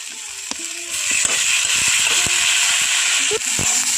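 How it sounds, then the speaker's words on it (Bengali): Chopped eggplant tipped into gima greens frying with turmeric in a pan, then stirred, giving a steady close sizzle with scattered scraping and clinking of the spoon against the pan. "এখন এর মধ্যে দিয়ে দিচ্ছি কুচনো বেগুনগুলো"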